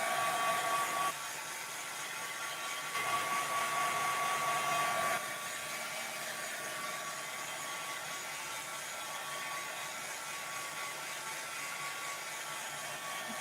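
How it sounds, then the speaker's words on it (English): An embossing heat tool blows hot air with a loud, steady whirring hiss that holds close and constant throughout, with no talking. "This is my embossing heat tool and it works great for embossing"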